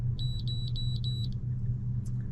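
An HT100 OBD scan tool gives a run of short, evenly spaced high electronic beeps, followed by a single faint chirp, all over a steady low engine-like rumble with no talking.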